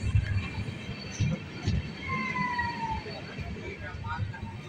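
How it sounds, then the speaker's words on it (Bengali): A train pulls into Azimganj station in Murshidabad, a low rolling rumble with a drawn-out horn-like tone sounding in the middle, moderately distant throughout. "আজিমগঞ্জ ঢুকছে ট্রেন এখন"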